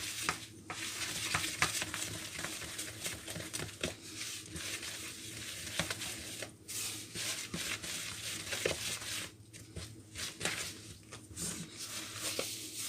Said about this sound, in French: On va maintenant mélanger vraiment énergiquement.